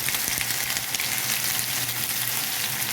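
Chopped ginger crackles in hot oil with a loud, dense, continuous sizzle, close and steady throughout, with a few faint stirring knocks.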